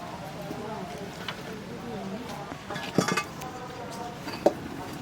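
A spoon slowly mixes rice flour batter with warm water in a bowl, giving a few sharp clinks against the bowl under steady talking.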